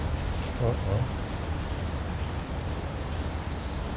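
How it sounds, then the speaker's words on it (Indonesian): Rain falls steadily as a dense, even hiss that fills the whole clip, with a faint, indistinct voice briefly underneath. "Alhamdulillah hujan."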